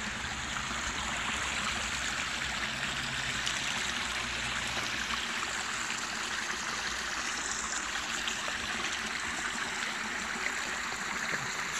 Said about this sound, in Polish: Tak to wygląda ten strumyczek.